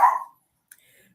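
A dog barks once, a single short, sharp bark close by at the very start, followed by near silence with only faint small sounds.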